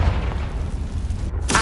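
Confringo fire spell cast in Hogwarts Legacy, a heavy booming blast with a deep rumbling body, loud and close, ending in a sharp burst, with no talking.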